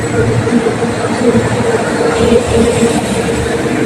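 A train rumbles steadily nearby at Gadag railway station, a continuous low mechanical drone with faint rhythmic clatter.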